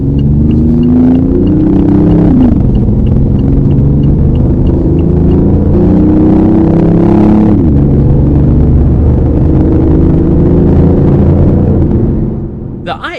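BMW i8 plug-in hybrid sports car accelerating, a loud, close, rumbling engine note that climbs in pitch, drops at two gear changes and keeps climbing before cutting off at the end.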